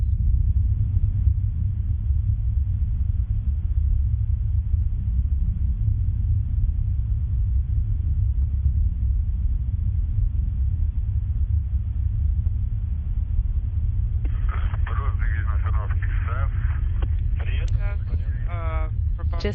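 The Soyuz TMA-04M rocket lifts off from Baikonur with a steady, deep rumble that fills the whole stretch. A brief radio-like voice is heard over it near the end.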